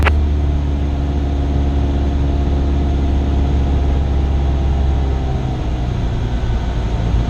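A Cessna 172 piston engine drones steadily in the cabin, a loud continuous hum with strong low tones that eases slightly toward the end as power comes back toward idle for a glide.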